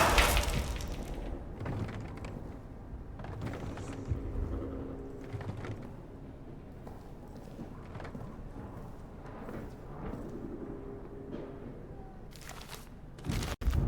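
Sniper gunfire in Amnesia: The Bunker, heard as scattered sharp cracks and bursts over a dense rumbling background, with a loud shot right at the end.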